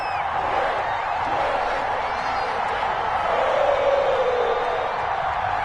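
A packed NFL stadium crowd roars steadily before a Pittsburgh Steelers versus Cincinnati Bengals game, a dense, continuous wall of cheering heard from within the stands.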